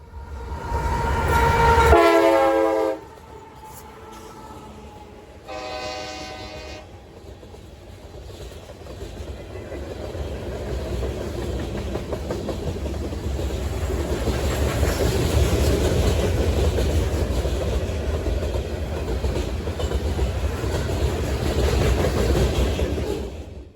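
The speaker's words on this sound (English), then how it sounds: "Somewhere in Indiana, I saw a CSX train off the interstate." CSX freight train on the Lafayette subdivision at Linden, Indiana, giving two loud horn blasts before the long rolling rumble and clatter of the passing cars builds and carries on.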